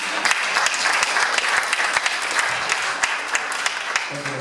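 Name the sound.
audience applause at candidate forum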